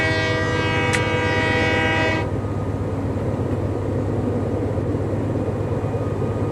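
A locomotive in the Train Life railway simulator rumbles with a steady low drone as the throttle opens, and a bright horn-like tone sounds for the first two seconds before the engine noise carries on alone.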